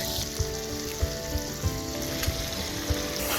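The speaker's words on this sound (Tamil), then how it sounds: "கருவேப்பிலை போடுறோம் மக்களே." Curry leaves crackle and sizzle in hot oil in a pan for a squid pepper fry, a steady loud frying hiss with a few sharper pops spaced through it, with no voices.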